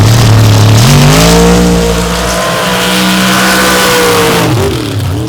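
MRA stock race cars roar past close by, their engines revving loud and rising in pitch as they accelerate. The throttle then drops away and picks back up near the end.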